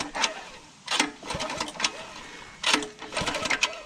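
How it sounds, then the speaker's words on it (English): Light, slow pull-start cord pulls on a 105cc mini bike engine that does not fire: a few short rasping bursts, close by, with brief pauses between pulls. "All right, so a couple little light pulls. Got some pretty good compression there."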